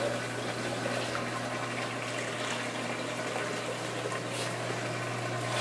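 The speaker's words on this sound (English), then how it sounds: "there's pumps in there that are moving the water around" Pumps circulating water in a container of curing reef rock give a steady, low, even churning and bubbling hum that continues unbroken and fairly faint throughout, with no voices.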